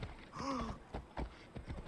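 Video game horse hooves clip-clop in a quick uneven rhythm, joined by a short horse whinny, moderately close over a faint background hiss.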